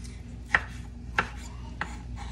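A knife chops tomatoes on a cutting board, likely in a home kitchen, with three separate soft knocks spaced about half a second apart over a low steady background.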